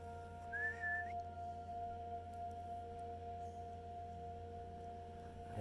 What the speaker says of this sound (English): my whistle's not working today